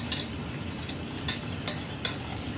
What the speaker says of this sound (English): we're going to whisk in a 1/3 cup of packed brown sugar